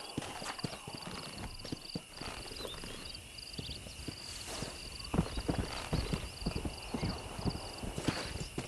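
Horse galloping in Red Dead Redemption, a steady patter of hoofbeats under a constant high insect-like outdoor drone, with a few sharper thumps and hits in the later seconds.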